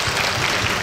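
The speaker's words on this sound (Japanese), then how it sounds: "今日はね、この微妙な拍手。" Brief, lukewarm applause from an audience at a driver talk show at Fuji Speedway during a Super Taikyu race weekend, a short scattered patter of clapping under a second long.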